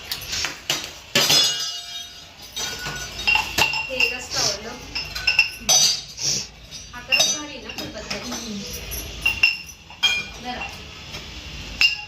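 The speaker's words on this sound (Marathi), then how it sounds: "कलबत्त्याचा आकार बघा किती छान आहे" A metal mortar and pestle, part of a bride's wedding household gifts, is handled, giving repeated bright clinks and rattles while someone talks over it.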